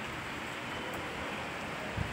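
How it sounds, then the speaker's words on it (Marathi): Steady rain falls outside a small two-room village house during the monsoon, a soft continuous hiss holding at even volume with no voices over it. "हे बघा, असं पाऊस खूप चालू आहे इकडं."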